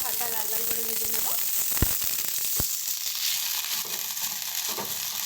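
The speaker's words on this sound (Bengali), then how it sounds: "দেখো, ফুলকপিটা কিন্তু হালকা লাল লাল করে ভাজা হচ্ছে।" Cauliflower florets fry in plenty of oil, crackling and sizzling continuously up close, with a couple of sharp utensil knocks and some quiet speech partway through.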